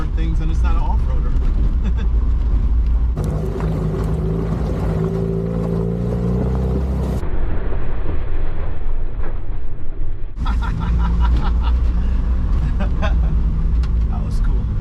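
An E21 BMW 320i on snow tires drives over wet dirt roads, its engine droning steadily with road and wind noise, while people talk inside the car over it.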